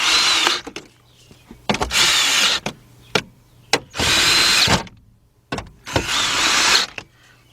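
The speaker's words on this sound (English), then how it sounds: "we're gonna get our cordless drill with our 10mm setup" Cordless drill fitted with a 10mm deep 3/8-inch-drive socket tightening bolts during fuel pump work on an Infiniti G20 or Nissan Altima, running in four loud, close bursts of about a second each, separated by short pauses and light clicks.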